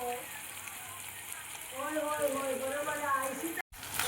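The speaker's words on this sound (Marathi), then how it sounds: "आणि हे बघा, सार उकळत आहे मस्त." Fish curry (saar) bubbling in a pot on a gas stove in a Konkan kitchen, a steady close simmering hiss that fills the clip, with a voice talking over part of it.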